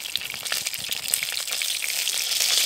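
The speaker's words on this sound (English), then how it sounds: "Sort out that crazy simmering again." Burgers sizzling hard in a pan on a small Trangia Mini spirit stove, a dense, bright crackle of spitting fat and bubbling that grows steadily louder, close up with no talking.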